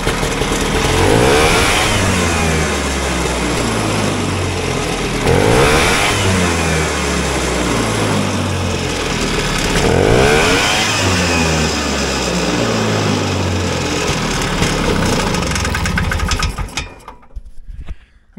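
Vintage one-cylinder race snowmobile engine test-running, with a loud, close, steady single-cylinder chug that rises and falls in repeated revs before cutting out near the end.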